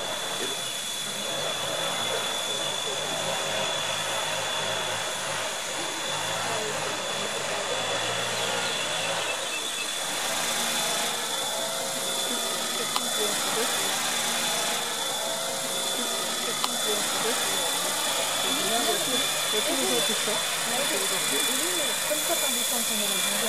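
A drone hovers high above a gull nest on a rooftop in Nice, its motors giving a constant close, whining buzz that holds steady throughout. Faint gull calls and a voice sit beneath it.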